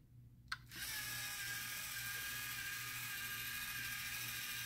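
A small LEGO robot driving and turning on a FIRST LEGO League 2018 mission table gives off a faint, steady mechanical whir of gears and motors after a brief click at the start.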